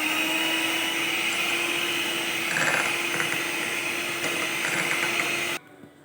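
An electric hand mixer beats three eggs with sugar for a marble cake, giving a steady, close whirring drone that runs unbroken for over five seconds before cutting off abruptly.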